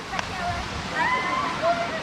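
The waterfall at Recanto Feliz gives a steady broadband rush of falling water from some distance. Faint chirps and voices sound over it.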